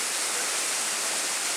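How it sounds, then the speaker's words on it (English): A waterfall at hot springs in Jordan roars with a dense, continuous broadband rush of falling water, loud and steady throughout with no voices. "These are waterfalls."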